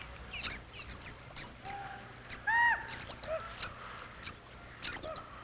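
Mountain birds such as the Oregon junco chirp near a nest in spring trees and grasses, with repeated short high tweets and a few longer whistled calls, fairly close and clear over faint background hiss.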